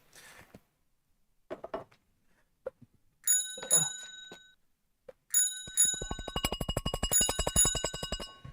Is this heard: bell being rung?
yes